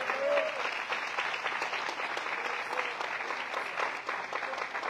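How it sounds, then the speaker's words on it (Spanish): A church congregation at an anniversary service in Marietta, Georgia claps in praise, sustained, even applause from a crowd lasting the whole stretch, with a brief voice near the start. "Demos palmas de alabanza al Señor,"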